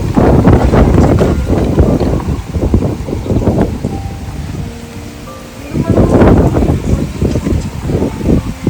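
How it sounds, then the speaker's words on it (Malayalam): Strong wind buffets and roars in loud gusts during a rainy day in Qatar, swelling and fading, with a calmer lull midway before another heavy blast. "നല്ല കാറ്റ് വീശുന്നുണ്ട്"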